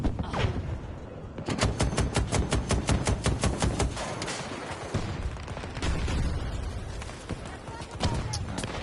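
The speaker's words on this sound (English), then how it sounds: "Please stop shooting at me." Gunfire in Battlefield 2042 comes as sustained rapid automatic bursts, sharp and close, broken by short pauses and scattered single shots, with some speech mixed in.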